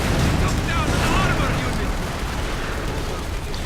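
Mortar shells exploding in the real-time strategy game Company of Heroes 2, a dense, rumbling wall of blasts and battle noise that is loud at the start and eases slightly toward the end.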